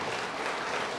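A church congregation claps together in a brief, continuous burst, a dense wash of many hands at moderate loudness with no voices.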